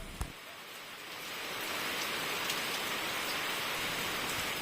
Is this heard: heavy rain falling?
yes